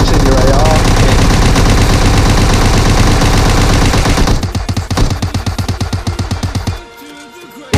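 Assault rifle fire in the zombie mode of the mobile game PUBG Mobile: dense, continuous automatic bursts, loud and close, breaking into separate rapid shots near the end before cutting off, with a voice faintly under the gunfire.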